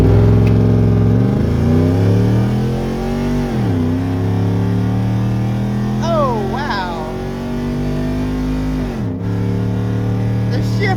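A supercharged 2015 Ford F-150 with a 5.0 V8 accelerates hard, its engine climbing loudly through the revs with sharp gear-shift dips and a strong, close roar, while people talk inside the cab.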